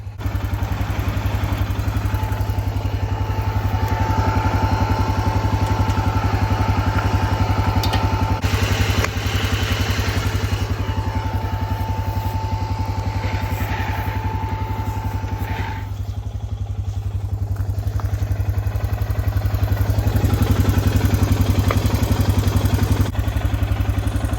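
An Arctic Cat 400 ATV engine runs steadily while the machine drives along, a continuous close mid-range engine drone with some rattle, no talking over it.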